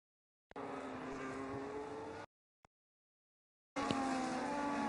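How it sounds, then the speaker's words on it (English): Racing cars roar through a racing video game, a steady engine whine that cuts off abruptly, a brief blip, then the engine roar returning loud and continuous, with no talking. "I just wanted to hear cars"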